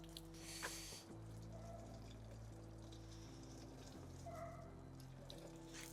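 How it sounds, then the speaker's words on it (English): Water pouring and trickling over car parts from an R34 being rinsed after a soapy wash, a quiet continuous splashing flow with faint bursts, heard close but at low volume. "wash this with soapy water, and then I'm required to rinse it"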